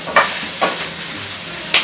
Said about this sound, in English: So let your rice sizzle away for a few minutes.